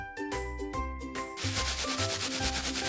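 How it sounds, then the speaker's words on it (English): A car headlight is sanded by hand with sandpaper, giving short rasping strokes at first and then faster, steady back-and-forth rubbing, close and fairly quiet, with no talking. "Make sure you sand it properly using the exact sandpaper as instructed"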